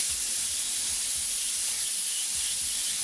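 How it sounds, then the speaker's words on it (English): An airbrush sprays gray paint over masked chain artwork, giving a steady, even hiss that runs unbroken throughout with no voices. "we're going to spray all our chain in gray now"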